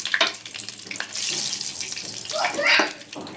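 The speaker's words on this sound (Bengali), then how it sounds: "আমি তেলের ভিতরে জিরে ফোড়ন দিয়ে দিলাম আর এই তেজপাতা দিয়ে দিলাম" Cumin seeds and a bay leaf crackle and sizzle in hot oil as a vegetarian dish is started, a steady, close hiss with brief brighter bursts and no talking.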